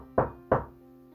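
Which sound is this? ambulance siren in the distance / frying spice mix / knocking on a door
knocking on a door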